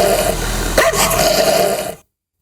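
Street dogs in an urban area bark and growl close by, loud and continuous over a steady background noise, with a sharp bark near the middle before cutting off abruptly.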